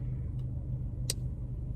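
Low steady engine rumble of traffic, muffled as though from inside a car waiting in a line of vehicles, with a faint brief click partway through; no one speaks.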